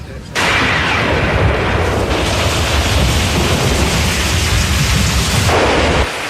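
A heavy rainstorm with thunder roars for several seconds, a dense, loud, continuous wash of rain with deep rolling rumbles that starts and stops abruptly, with no voices.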